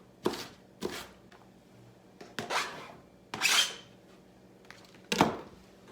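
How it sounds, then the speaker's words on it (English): A knife chops red onion on a cutting board in a home kitchen: six separate, close, crisp strokes at uneven intervals, each with a brief scraping rasp, with quiet between them and no talking. "I'm gonna chop a little bit of that to put in there"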